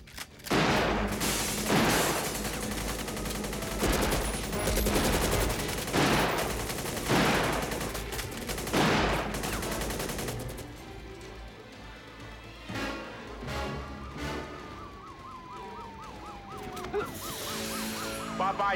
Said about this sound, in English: He's got automatic weapons.